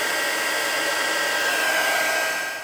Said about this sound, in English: my next step is to use my heat tool. I'm gonna heat it. The embossing powder will melt